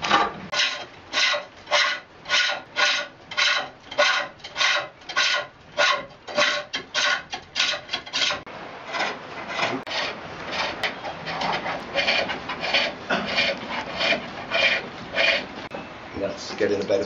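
Wood being turned on a lathe at Penpont in Brecon, a tool cutting the corners off the spinning blank in a fast, regular rasping rhythm, close and loud, rougher and less even in the later passes.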